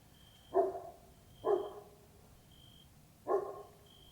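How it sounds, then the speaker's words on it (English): A dog barks three times in separate single woofs, spaced irregularly and moderately close, over a quiet indoor background with a faint steady tone. "Oh, the dog's back."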